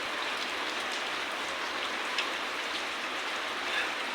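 Steady rain falls at night in the rainy season, a constant dense hiss of drops on surfaces with a few slightly louder splats, heard alone without any voices.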